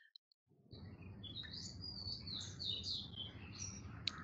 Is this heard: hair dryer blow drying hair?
no